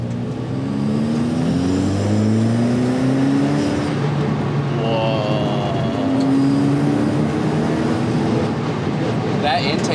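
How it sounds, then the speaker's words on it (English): The intake of a Dallara Stradale, a carbon-fiber, street-legal 400 hp track car with a manual gearbox, rising and falling as it revs and accelerates on a road, loud and close, with a voice murmuring underneath. "That intake sound is pretty cool."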